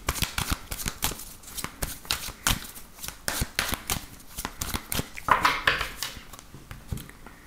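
Oracle cards being shuffled by hand in a run of rapid, papery riffles and flicks that patter steadily at close range, with no voices.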